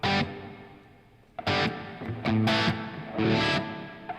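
Electric guitar chords strike in bursts, each ringing out into a long, washy reverb tail between hits.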